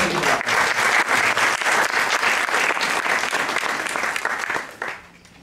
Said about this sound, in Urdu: لہذا بھرپور تالیاں بجائیے